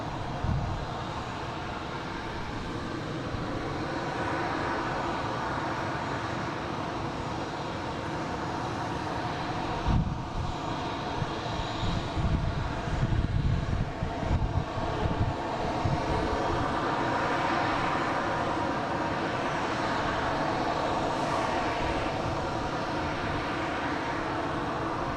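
A jet engine, probably on an Alaska Airlines plane, spins up at Boston Logan airport with a broad, steady roar. It holds a constant loud level and swells slightly in the middle, with no talking.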